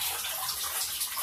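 A home bathtub fills with water from the tap, a steady, rushing hiss of running water that continues without a break and has no talking over it.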